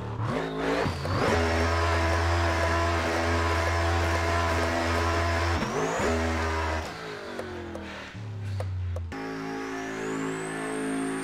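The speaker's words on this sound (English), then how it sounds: "Do you hear that boost building up?" Race car in the Assetto Corsa video game, with an engine roaring through gear changes and turbo boost building as a rising whistle above the engine note, loud and continuous, with no speech.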